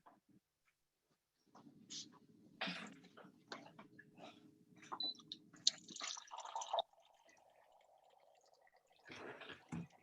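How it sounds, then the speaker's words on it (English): Water pouring during a meeting, heard as faint, close trickling and gurgling in short bursts against otherwise quiet room tone. "I assure you that's just water pouring."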